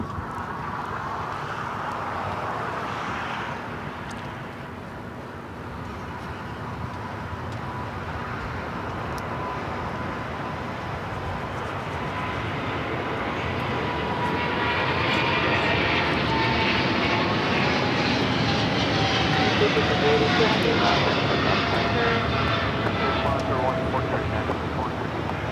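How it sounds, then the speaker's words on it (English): A China Airlines Cargo Boeing 777 freighter rolls for takeoff on runway 25 left at LAX, its engine roar loud and sustained, building steadily into a broad, powerful rumble as it accelerates. "We have a takeoff now rolling on 25 left, China Airlines Cargo 777 Freighter."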